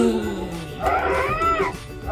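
An eerie, wavering cat-like wail from a Halloween pumpkin decoration rises and falls over a low droning background.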